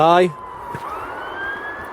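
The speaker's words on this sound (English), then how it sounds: "And even the sirens agree." A distant siren drones with a faint rising tone after a brief harmonic burst, a voice starting at the very beginning.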